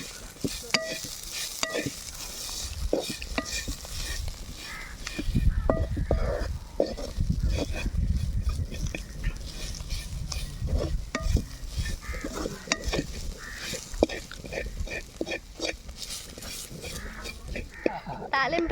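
Pounded chili powder stirred into a sizzling Telugu tempering for drumstick leaf (munagaaku) fry, a steady frying hiss with intermittent scraping stirs of the spoon, heavier sizzle midway, while someone talks over it.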